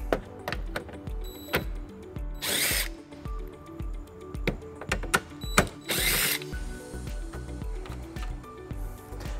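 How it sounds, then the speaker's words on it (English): A power tool with a 10 millimeter socket backs the two taillight screws out of a 2019 Toyota C-HR, heard as close, short whirring bursts mixed with ratcheting clicks and small tool handling noises. "remove the two screws in the taillight using a 10 millimeter socket"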